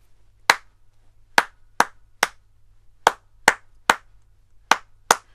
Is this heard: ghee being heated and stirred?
no